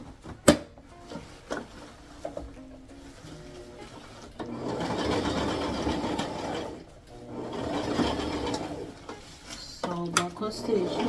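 Sewing machine sewing the ribbon waistband of a tutu, two separate runs of fast, whirring stitching a few seconds each, with quieter handling noises and pauses between them.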